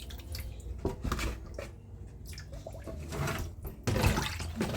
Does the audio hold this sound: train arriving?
no